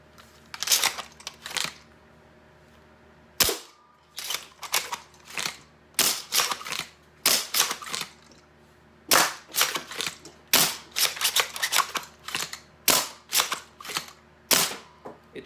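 A modified Caliburn foam dart blaster fitted with Talon metal fires repeatedly, sharp loud snapping shots mixed with the clack of priming, coming in quick bursts and pairs across the whole stretch, close up and with no talking.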